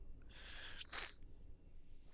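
A single sneeze bursts out near and fairly loud over a quiet room background, a short sharp burst with a sharp breath just before it.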